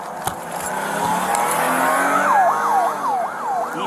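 A stolen police car races at high speed during a 4.5-mile chase on a highway, its engine roaring steadily and loudly while a wailing siren sweeps up and down through the second half, with no talking.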